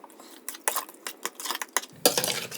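A spoon stirs mustard seeds, chili and cumin seeds in a cooking pot, making close, irregular clinks and scrapes against the metal with short pauses between strokes.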